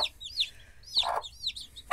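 An angry hen clucks and squawks in short, agitated bursts close by, with high, harsh calls repeating several times.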